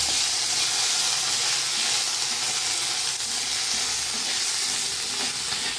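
Ginger paste sizzles as it fries in hot oil for a vegetarian ash gourd dal, a loud, close, continuous hiss with steady bubbling crackle and no pauses.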